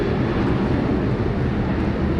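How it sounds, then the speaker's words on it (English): A Qantas airliner taxiing at Sydney Airport produces a steady, loud low rumble with a broad engine roar that holds constant, no voices present. "On screen now, we do have Qantas Flight 64 taxiing to the bay."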